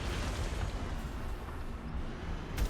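A Geth cannon blasting in the video game Mass Effect 2, a sustained heavy, booming roar of explosive fire with a sharper burst near the end, no talking.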